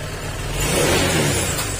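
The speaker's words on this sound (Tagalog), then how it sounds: "kapag nilagyan mo siya ng gas, parang delay siya, delay." A Honda Click 160 scooter with a delayed throttle response and a misfiring, stalling engine idles low, then swells into a brief muffled rev before settling back down, heard close up.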